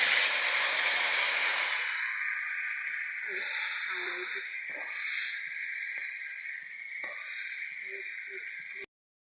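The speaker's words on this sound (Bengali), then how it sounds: "মাছ ভাজা তেলে ধুন্দুলগুলো সুন্দরভাবে ভেজে নেব।" Sliced ridge gourd fries in oil left over from frying fish, producing a strong, constant hiss and sizzle, with a voice speaking quietly underneath before it cuts off.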